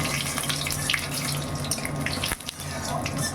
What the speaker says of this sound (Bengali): ফোড়নে আজকে আমি 5 ফোড়ন, গোটা গরম মশলা, তেজপাতা দিলাম।